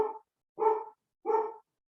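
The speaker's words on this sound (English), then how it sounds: "If you can hear that, that's my dog" A dog barks three times at a steady pace, each bark short and moderately loud, with quiet between.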